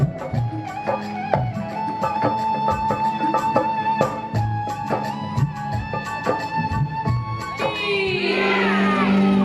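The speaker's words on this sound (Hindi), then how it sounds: "भैया का जोरदार तालियों के साथ सम्मान करें, जोरदार तालियां।" At a Khatu Shyam bhajan evening in Loni, Ghaziabad, devotional music with steady percussion plays loudly, then the crowd breaks into a brief burst of cheering and shouting near the end.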